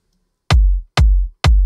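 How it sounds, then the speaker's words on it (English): Three punchy layered electronic kick drum hits in Logic Pro X at a steady pace, each with a sharp click and a deep, booming low end that decays quickly. "it's a nice in-your-face hard kick"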